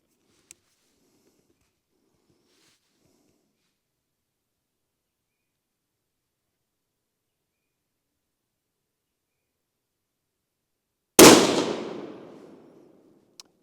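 A single sharp rifle shot cracks out during a scope test with a Burris XTR II, loud and close after a long silence, its report decaying over about a second.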